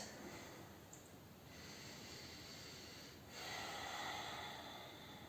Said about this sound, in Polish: naprawdę warto tutaj głęboko oddychać.